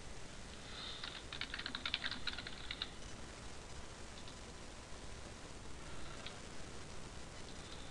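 A web address being typed on a computer keyboard, a burst of rapid close keystrokes followed by a few scattered taps against faint background hiss.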